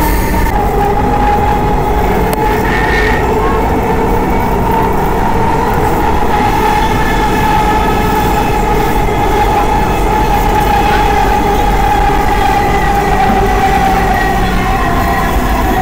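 A Dhaka metro train rumbles along loudly and continuously, with a steady mechanical hum and faint rail clatter throughout, no voices.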